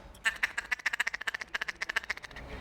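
A hand-blown duck call imitating a hen's feeding call: a rapid, chattering run of about twenty short quacking ticks, close and loud, played alone.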